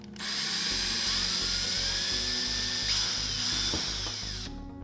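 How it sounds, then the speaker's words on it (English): A power drill boring a small hole in PVC pipe whines steadily at high pitch for several seconds, close and loud, then winds down and stops. "We'll then take it and drill a small hole."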